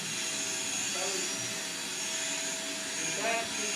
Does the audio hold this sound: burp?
no